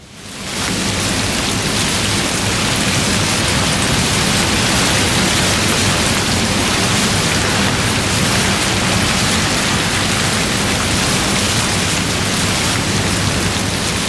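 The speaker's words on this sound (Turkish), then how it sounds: "Ne biçim fırtınalı? Arabayı sallıyor neredeyse." Heavy thunderstorm rain roars in a dense, unbroken wash with a low rumble underneath, loud and continuous, with no voices.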